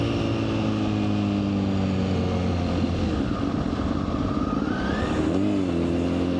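A 2026 Honda CBR 1000RR liter-bike engine drones steadily during a night ride, with wind rush throughout and a brief rise in revs near the end.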